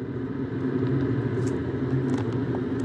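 A pace car engine rumbles steadily in a stock car racing video game, a loud, constant low drone with no clear revving, heard alone and close.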